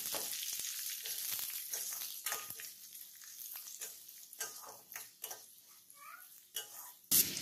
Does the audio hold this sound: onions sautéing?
yes